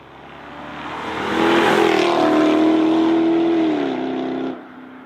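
Jaguar XKR-S sports car, a British GT, its engine swelling into a loud, sustained, steady drone before dropping away abruptly near the end, heard close with no talk.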